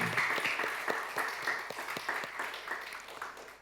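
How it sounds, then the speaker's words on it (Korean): A church congregation applauds during a Sunday worship service, a moderate burst of clapping with some distinct individual claps, fading gradually toward the end. "복의 근원 되신 우리 하나님 앞에 영광의 박수 올려드립시다"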